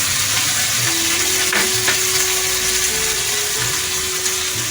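Two small spoonfuls of onion paste hit hot oil after potatoes have been fried, giving a dense, steady sizzle and crackle with a couple of brief utensil clicks and a faint tonal hum underneath.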